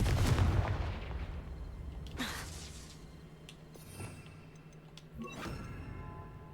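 A Confringo fire spell fired in Hogwarts Legacy: a booming blast up front, then further sharp cracks and bursts spread through the clip, loud, with no talking.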